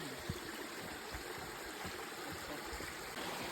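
A woodland stream flows steadily along a hiking trail, a constant close rushing wash of water with faint low knocks and no talk.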